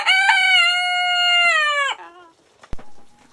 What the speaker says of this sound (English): you'll hear crowing all the way through them